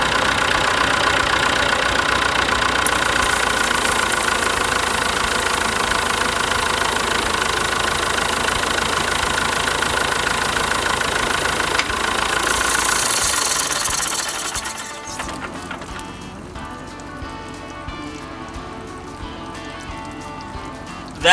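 A Massey Ferguson 180 tractor engine runs loud and close with a steady rattling diesel drone, then dies away after about fourteen seconds, leaving a quieter background hum.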